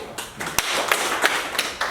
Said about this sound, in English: Yes, clap for her.